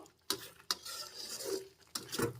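Yogurt being stirred into fish begum bahar in a pan over a low flame, with spoon scrapes and knocks against the metal in a few sharp bursts and soft wet mixing between them, close and fairly quiet.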